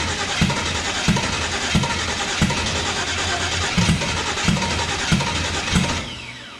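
A turbocharged engine on a Zodiac S10 light aircraft starts and runs, a steady mid-pitched drone with regular thumping pulses about twice a second, fairly close and without talk.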